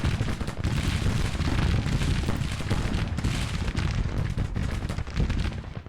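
Civil War battle gunfire in the Grand Tactician strategy game, a dense continuous roar of musketry and rumbling cannon-like booms, mid-distance and steady, with no voices.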